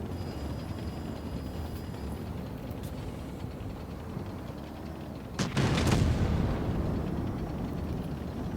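Tank cannon fire in World of Tanks Blitz: a single loud boom after a stretch of low engine rumble, followed by a lingering rumbling tail.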